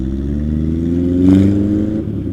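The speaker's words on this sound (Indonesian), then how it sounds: "banyak mobil, intinya mobil-mobil niaga ya" Engine traffic in the Cikarang industrial area, with trucks and commercial vehicles on the road: a loud, close low rumble of engines that swells briefly as a vehicle revs or passes, then settles.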